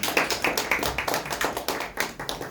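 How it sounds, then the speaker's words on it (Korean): A church congregation claps in thanks after a closing prayer, a quick run of sharp, fairly close hand claps lasting a few seconds, with no talking over it. "우리 감사의 박수 한번 드리겠습니다"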